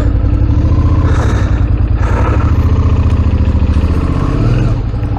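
Adventure motorcycle on a steep High Country trail in Victoria, its engine loud and close with a rhythmic thumping beat, revs shifting as it drops down through the gears.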